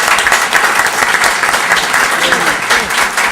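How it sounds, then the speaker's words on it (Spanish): Audience at an international arbitration congress in Spanish breaks into loud, sustained applause, dense clapping from a crowd holding steady throughout, with a voice speaking faintly beneath it. "a quienes despedimos con un fuerte aplauso"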